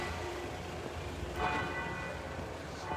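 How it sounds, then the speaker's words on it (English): Church bells of Santo Spirito in Florence ring continuously in the open air, a dense, reverberant peal heard at moderate distance over outdoor background noise, with no voices. "The bells are ringing of the beautiful church of Santo Spirito."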